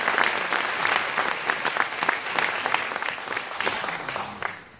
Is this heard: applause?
yes